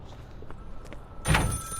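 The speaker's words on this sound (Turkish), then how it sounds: "telefon telefon telefon. Nerede?" A telephone rings in the video game Contraband Police: a sharp electronic ring cuts in abruptly near the end, loud over a quiet, faintly rumbling background with no talk.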